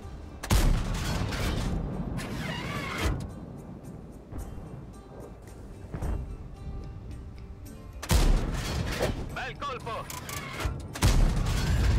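Progetto M40 mod. 65 tank firing high-explosive shells in World of Tanks, a few heavy booming shots spaced seconds apart with rumbling engine and battle noise between, a commentator talking underneath.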